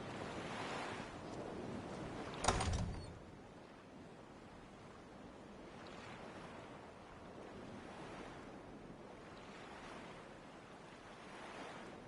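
Waves breaking and washing at the water's edge on a shore in the fantasy game Dragon's Dogma: Dark Arisen, a steady soft surf with a brief louder surge early on, then gentle repeating swells.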